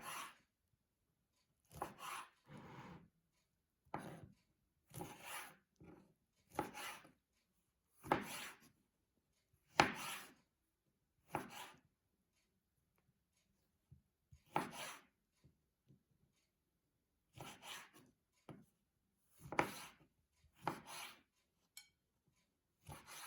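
Tomatoes being sliced with a knife after their ends are trimmed, heard as a series of close, separate cutting strokes on a board, spaced irregularly with quiet pauses between them.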